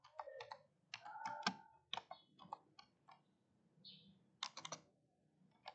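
Someone types in MS Word on a computer keyboard, producing irregular bursts of crisp, close key clicks separated by short pauses, with a faint background hum.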